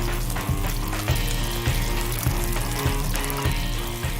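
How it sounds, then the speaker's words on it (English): Sea bass sizzles steadily skin side down in a hot pan of olive oil, a loud dense crackle with periodic bumps and clatters from the pan, and no voices. "Just before the olive oil starts to smoke, sea bass in."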